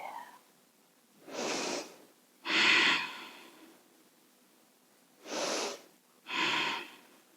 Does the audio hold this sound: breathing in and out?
yes